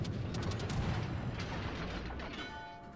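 Rapid anti-aircraft gunfire from a warship in World of Warships, aimed at torpedo bombers: dense overlapping booms and crackling bursts, loud and continuous throughout with no speech.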